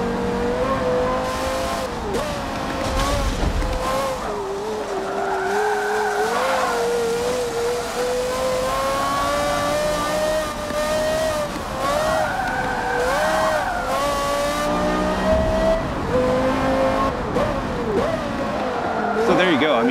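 A Porsche Carrera engine in the Forza racing video game drones and rises in pitch, revving steadily with occasional tire squeals, loud and continuous throughout.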